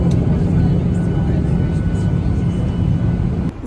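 Inside a passenger airplane cabin in flight to Montreal, a loud, steady, broadband engine roar and air rush fills the whole stretch without a break.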